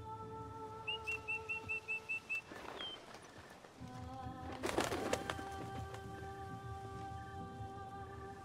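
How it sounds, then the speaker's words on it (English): Birds call in The Witcher 3: Blood and Wine, a rapid series of repeated whistled notes over a steady ambient game soundscape with rain-like hiss and soft tones. "Then why is that bird always now there?"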